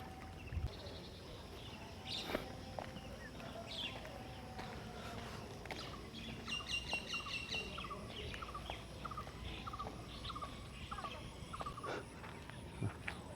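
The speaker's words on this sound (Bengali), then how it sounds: "পাখির দলগুলো কিচমিচ করছে, উড়ে বেড়াচ্ছে এক গাছের আরেক ডাল থেকে" Many birds chirping and calling together outdoors beside the Kirtankhola river in Barishal, Bangladesh, a busy, steady chatter of overlapping tweets at moderate distance, with no voices.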